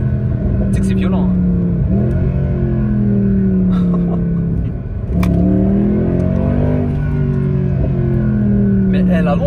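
A Mercedes C63 Black Series revs hard on a circuit, its engine note climbing repeatedly in loud sweeping pulls with a brief dip between, while people talk excitedly over it from inside the car.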